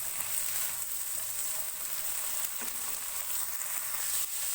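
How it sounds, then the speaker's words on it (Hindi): Peas and carrots fry in a pan with a steady, close sizzle that holds an even level throughout, with no voices. "दो 3 मिनट मटर फ्राई करने के बाद मैं इसमें गाजर शामिल करूंगी। इसको भी हम 2-3 मिनट फ्राई करेंगे।"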